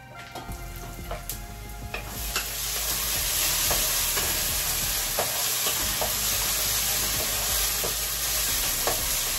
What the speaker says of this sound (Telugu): నేను కట్ చేసుకున్న టొమాటోస్ కూడా వేసేసుకుని ఫ్రై చేసేసుకుంటున్నాను